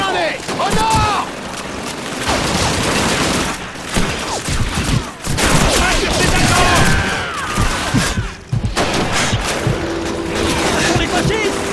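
Constant rattling machine-gun bursts and scattered gunshots and booms in a Call of Duty 2 Russian campaign battle with an MG-42 and armored vehicle, loud and continuous, with shouting soldiers' voices mixed in.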